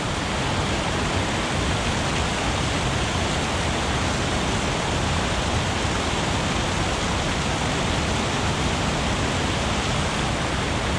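Steady, loud broadband rush of a mountain waterfall, a continuous roar of falling water that holds unchanged throughout with no voices.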